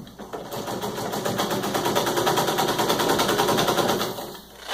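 An antique 1920s White treadle sewing machine in an enclosed cabinet stitching at speed, a rapid, even mechanical clatter running continuously at close range before tapering off at the end.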